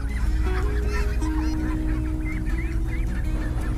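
A flock of pink-dyed ducks at a countryside market in Vietnam's Mekong region quacks loudly and continuously, many overlapping nasal calls close by over a low hum of market background.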